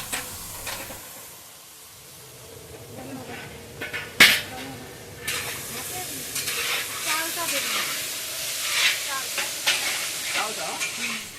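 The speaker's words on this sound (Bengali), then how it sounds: "কড়াইতে মাছের মাথাগুলো দিয়ে দিচ্ছি।" Broken catla fish heads drop into a hot wok with capsicum and tomato: a loud hiss bursts up, then a busy sizzle continues with scraping stir strokes and spitting bubbles throughout.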